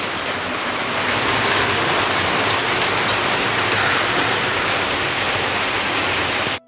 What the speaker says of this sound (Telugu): వర్షం అయితే సడన్గా స్టార్ట్ అయిపోయింది